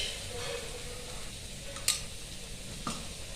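Spinach fries with garlic in a pan on a gas stove, a soft steady sizzle broken by a couple of sharp clinks from stirring against the pan.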